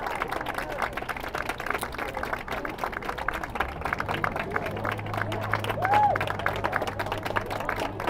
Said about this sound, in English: I'm not too sure why the audience is clapping